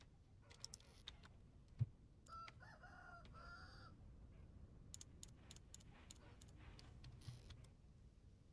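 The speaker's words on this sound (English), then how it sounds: "Good job, chickens. You're doing chicken things." Chickens in the video game Vintage Story cluck in short, quiet, repeated bursts, with a few soft clicks and taps in between, all faint and distant.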